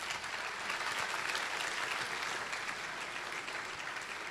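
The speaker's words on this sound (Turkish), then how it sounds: "Güzel bir alkış rica ederim lütfen." Concert audience at a symphony evening in Antalya breaks into steady, dense applause that holds evenly for several seconds, with no voices over it.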